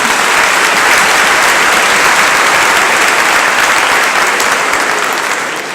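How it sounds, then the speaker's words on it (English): Sustained applause from a large audience at the 2019 Parkland College commencement ceremony, loud and dense throughout, fading slightly at the end. "we can still give her a round of applause"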